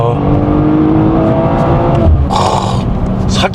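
BMW M440i engine accelerating hard, a loud, close rising roar that swells and then breaks into a sharp crackle and pops near the end.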